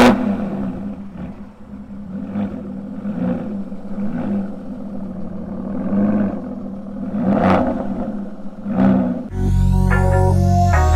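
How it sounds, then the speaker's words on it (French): An Aston Martin Rapide S V12 engine revs in repeated rising surges as the car pulls away, loud and close, ending in a sharper, brighter burst of acceleration. "Et là le V12 chante et c'est parti pour des envolées libres."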